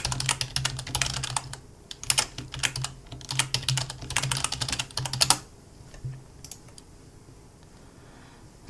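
Fingers type on a computer keyboard in quick bursts of clicky keystrokes, close and fairly quiet, then taper off to a few scattered taps.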